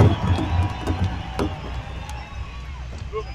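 A large crowd at an indigenous gathering in Albuquerque claps and cheers, a loud, busy wash of whoops and shouts with sharp scattered claps and voices mixed through it.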